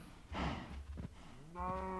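Longhorn cattle in Minecraft give two close, clear moos, a short low bellow and then a longer drawn-out lowing call, with quiet room sound between them.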